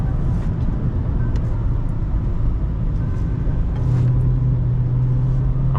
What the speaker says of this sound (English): And as you can tell, I'm full throttled.